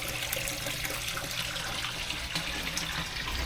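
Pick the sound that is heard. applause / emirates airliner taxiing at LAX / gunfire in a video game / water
water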